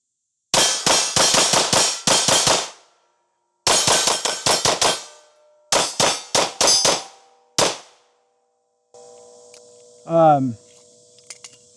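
A Staccato HD P4.5 pistol fires in rapid strings of shots in several bursts, each crack loud and sharp with a ringing tail, followed by silence and then a brief electronic tone and hum.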